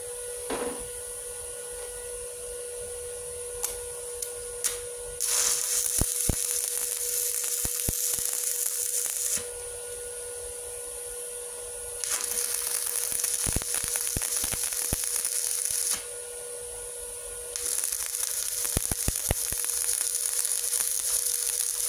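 A cheap 450 watt arc welding machine running on 900 watt household power lays several long beads. Loud, crackling, sizzling bursts last several seconds each, separated by quieter hum and brief ticks.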